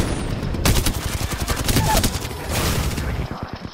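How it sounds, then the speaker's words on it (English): Rapid bursts of automatic gunfire in a ranked multiplayer shooter game, loud and close, rattling in dense volleys for several seconds before breaking into a few sharp single shots. "Taking fire, brothers!"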